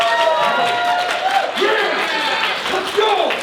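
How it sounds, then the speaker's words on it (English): Audience at a TFI Creations panel during the TFcon Toronto 2022 convention clapping and cheering loudly, with whoops and shouting voices rising over the applause throughout. "Big round of applause, guys"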